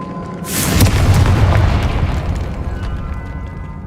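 Confringo blasting spell from Hogwarts Legacy exploding against statues, a loud close boom with a sharp crack at the start and a deep rumbling roar that slowly fades.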